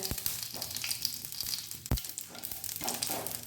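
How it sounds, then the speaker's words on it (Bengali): Dried red chillies, curry leaves and mustard seeds sizzle in hot mustard oil, a steady close crackle with a few sharp pops, no voices over it. "আমি এই শুকনো লঙ্কা, কারি পাতা আর সর্ষে ফোড়ন দিয়েছি সর্ষের তেলে।"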